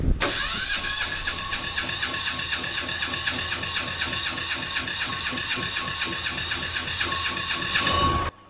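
A small diesel generator engine cranking over during fuel line bleeding, the starter churning in a fast steady rhythm with a whine for about eight seconds before stopping, loud and close.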